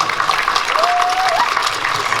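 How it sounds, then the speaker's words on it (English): A live crowd at a stand-up comedy show breaks into a round of applause for a woman, steady, dense clapping filling the room, with a brief whistle cutting through midway. "give her a round of applause"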